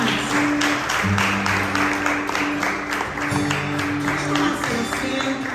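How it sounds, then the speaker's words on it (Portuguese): A church congregation applauds in a steady, dense wash of clapping that lasts several seconds, with a sustained musical tone held underneath. "Você pode aplaudir o Senhor por essas verdades?"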